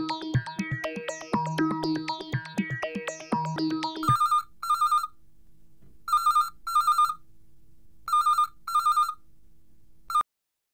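A telephone rings in repeated electronic bursts after a stretch of music, the rings arriving in evenly spaced pairs, loud and close with no talk over them.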